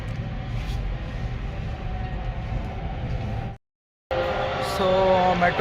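A metro train rumbles loudly and steadily at a station, cuts out briefly, then returns with brighter, squealing rail tones as it moves along the platform.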